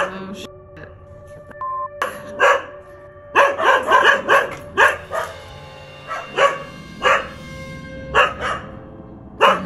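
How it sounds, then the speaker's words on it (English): Dogs bark loudly and repeatedly in bursts, close by, with a few yips between barks and a faint electronic tone early on. "Loud ass dogs."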